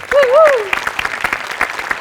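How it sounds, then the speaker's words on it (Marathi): An audience at a comedy show breaks into strong applause, a dense burst of clapping. A short rising vocal whoop rides over the start of it. "गोस्वामींसाठी आणि प्रथमेशसाठी भयंकर टाळ्या."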